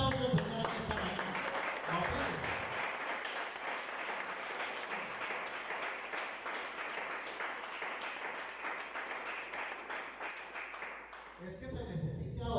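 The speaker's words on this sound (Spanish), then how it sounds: "Denle un aplauso al Señor esta mañana." Sustained applause from a church congregation at a Sunday service in Gachantiva fills about ten seconds as a steady, dense wash of clapping, then fades to quieter room sound.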